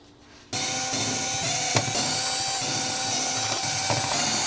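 A power tool whirs steadily, starting abruptly and running on for several seconds, as side screws are backed out of a Synology DS412+ NAS case.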